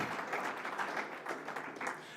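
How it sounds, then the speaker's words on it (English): Light, steady clapping from a modest audience at a press conference for a battle of the bands, faint and somewhat distant, continuing evenly for a couple of seconds. "Please give the awesome Mr. Bobby Powell Jr. another round of applause"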